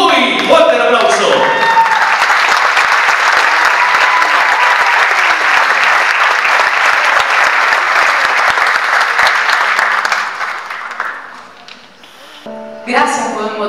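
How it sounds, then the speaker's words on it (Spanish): A theatre audience at Teatro Real applauds singer Fernanda Zubuy, loud dense clapping sustained for about ten seconds before thinning out, with a voice speaking briefly at the start and end. "¡Fuerte el aplauso!"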